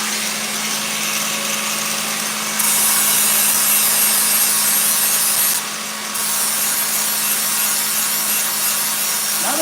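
Trimming the bottom of a custom-built rear link part for a 1961 Ford F100 truck: a loud, steady continuous rasping cut with a constant hum underneath, briefly dipping once before resuming, with no talk.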